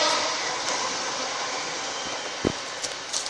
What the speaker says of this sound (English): Guys, here comes the train.